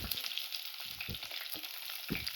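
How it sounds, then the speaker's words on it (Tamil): Onions, green chilies and curry leaves sautéing in oil in a pan for rice kichadi, a close, steady crackling sizzle with soft stirring scrapes. "இது எல்லாத்தையுமே நல்லா போட்டு வதக்கிக்குவோம்"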